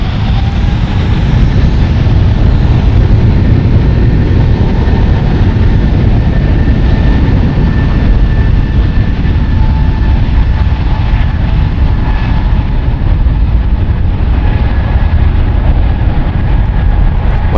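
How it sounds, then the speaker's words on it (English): A United Airlines Boeing 777-200ER departs San Francisco for Newark with a loud, sustained jet roar and a whining engine tone that slowly shifts in pitch, continuous and free of talk. "What a beautiful 777 United going to EWR. United Airlines flight 3016, Boeing 777-200ER."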